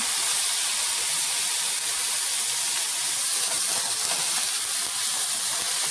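Ground beef browns in a crock pot, giving off a steady, even hissing sizzle that runs unbroken with no talking over it.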